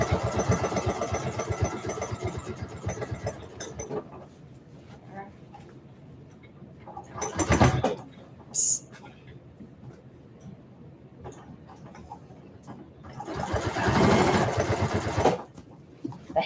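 A sewing machine stitches a maker caddy, running in a steady whirring stretch, then pausing and starting again in short bursts, with a longer run near the end and quiet moments in between.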